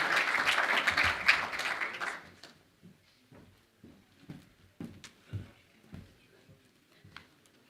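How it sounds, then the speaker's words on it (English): Hall applause at a boxing congress in Rome, a dense wash of clapping for about two seconds that dies away into scattered claps, shuffles and thumps in a quiet room. "One more round of applause for Boris and Ingeborg"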